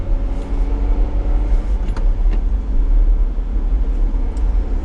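A car rolls along a road through a left turn, a steady low rumble of engine and tyre noise continuing throughout with no talk.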